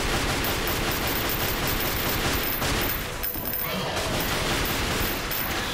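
Rapid bursts of gunfire from Arcia's guns in the action game Chaos Legion, a dense continuous volley that runs loud and close through the whole stretch with only a brief dip partway.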